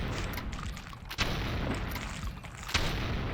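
Gunfire at an enemy in the retro shooter Blood with the Extra Crispy mod, two sharp booming shots about a second and a half apart over a dense rumbling game soundscape.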